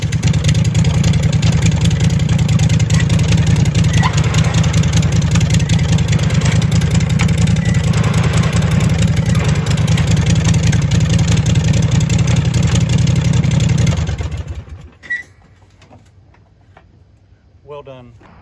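A vehicle engine revs loud and close during a test drive, holding a steady high drone for a long stretch, then cutting off abruptly into near quiet with a few small clicks, under occasional talk.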